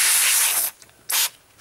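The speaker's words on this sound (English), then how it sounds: "Spray it onto the tissue." Two short, close hissing sprays of isopropyl alcohol from a spray bottle onto tissue, a longer burst followed by a quick second one, with no talking.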